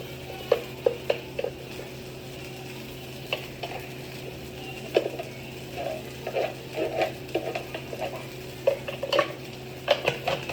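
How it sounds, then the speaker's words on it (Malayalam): A spoon scrapes and clinks against a pot while chilli powder and coriander powder are stirred into a mix, with irregular metallic taps and scrapes over a low steady hum. "ഇത് നന്നായിട്ട് മിക്സ് ചെയ്യാം"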